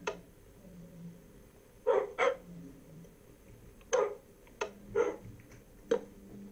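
Dogs in the Minecraft video game bark in short, sharp bursts, sometimes in quick pairs, spaced irregularly over a faint steady background with no talking.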